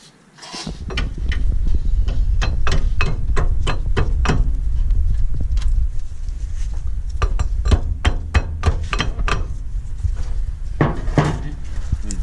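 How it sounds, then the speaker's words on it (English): A cotter pin is hammered into the tie rod end on a 2009 Honda Accord, a long series of sharp metallic taps in uneven bursts, close and loud, with a short pause midway. "If it doesn't fit in there, you can just hammer it."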